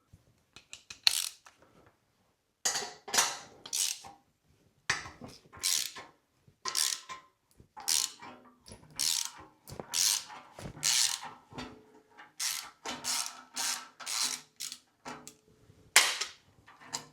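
A hand ratchet clicks in short repeated bursts while loosening bolts on a Jaguar V12 engine, close and crisp, with brief pauses of silence between each run of rapid ratcheting.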